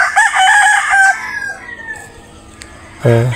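Rooster crowing at a small chicken farm, loud and close, one long crow followed by quieter clucking, then a second crow starting at the end.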